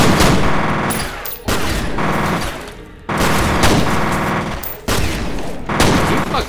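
Gunfire in the shooter game F.E.A.R.: loud, dense automatic bursts in several long volleys with short breaks between them.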